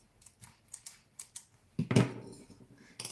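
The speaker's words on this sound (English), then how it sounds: "I'm going to cut this." Scissors cutting card paper for a handmade Christmas card, a run of close, crisp snips in a steady rhythm followed by a louder, longer cut.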